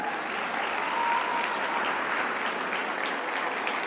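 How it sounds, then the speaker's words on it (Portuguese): Sustained applause from a seminar audience in Brazil, a dense even wash of clapping at steady loudness, with no speech over it. "salva de palmas para o Flávio Augusto da Silva"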